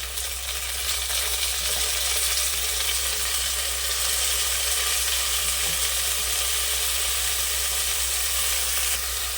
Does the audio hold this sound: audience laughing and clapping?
no